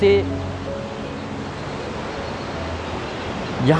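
River water at the confluence of the Pindar and Alaknanda rivers in the Uttarakhand hills: a constant broadband rush of flowing water, steady and fairly loud, with brief voice fragments at the start and end.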